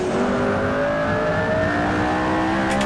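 A McLaren P1 GTR engine in the racing game Assetto Corsa drones loud and close, its steady high-pitched tone holding evenly with slight pitch shifts through the whole stretch, with no talk.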